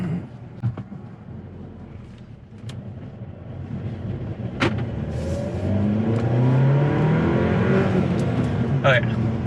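A Volkswagen Golf Alltrack engine with an APR Stage 1 tune revs up and climbs in pitch while driving, with road rumble underneath and a voice speaking briefly.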